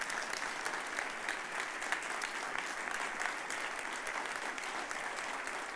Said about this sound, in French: j'aimerais vraiment qu'on puisse se lever et les applaudir bien fort